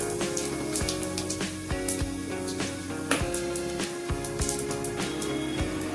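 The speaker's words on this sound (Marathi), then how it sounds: "आता यामध्ये मी 1 चमचा जिरं घालून घेते।" Cumin seeds crackle in hot ghee in a kadhai, with steady close popping and scattered sharp snaps over a soft sizzle.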